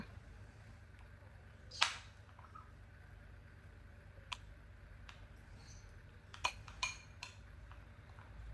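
Corn being mixed with oil and salt in a bowl, heard as a few sparse clinks and scrapes of a utensil against the bowl, one sharp knock early and a small cluster near the end over a quiet room hum.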